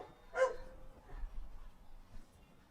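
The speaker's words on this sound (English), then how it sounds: "ignore my dog" A single short bark from a pet dog, somewhat distant and faint, followed by quiet room noise with a few soft low sounds.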